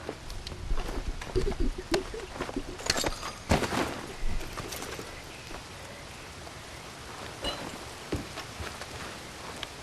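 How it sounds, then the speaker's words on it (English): Rain falling in the open world of the video game Red Dead Redemption 2, with a steady patter on surfaces and scattered louder drops and taps that thin out toward the end. "We got some more rain."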